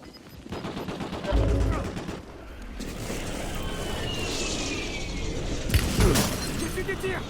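Bursts of video game gunfire crack out over a rumbling in-game ambience, with irregular shots clustering near the start and later on, and faint voice chatter mixed in.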